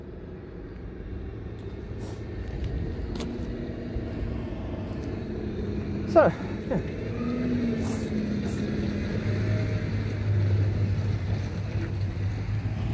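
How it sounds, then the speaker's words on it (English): A big tractor driving past on a road outside: a low engine rumble that slowly builds and draws nearer over wind noise, with a brief spoken remark partway through. "Big tractor, so I'm waiting for that to go first"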